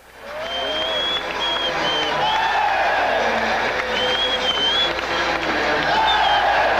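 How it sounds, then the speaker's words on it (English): New Jersey Devils hockey fans cheer their team in the playoffs, a sustained roar of crowd noise, applause and whoops that swells steadily and fills the arena, with some voices rising above the din. "Cheering their team in the playoffs is the ultimate reward for these loyal Devils fans who had survived the early years."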